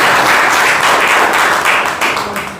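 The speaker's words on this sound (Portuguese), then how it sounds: "dar uma salva de palmas bem alegre para Jesus nesta manhã" A church congregation claps together for Jesus during a morning service, a dense, steady wash of applause that stays loud throughout and tapers slightly at the end.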